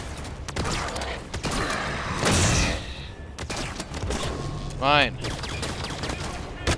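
Rapid bursts of automatic weapon fire and shots crackle through a Halo 5 firefight on Xbox One, mixed with game sound effects, while players talk over the action.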